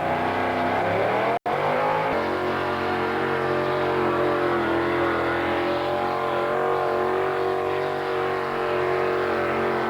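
A tractor-pull machine at a 1985 county fair roars continuously, a loud, sustained engine drone holding steady with a brief sharp break early on, close and alone with no talk.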